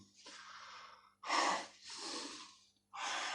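Breathing during kung fu practice: four close, loud, forceful breaths in and out, each lasting about half a second to a second, separated by short silences, with no talk.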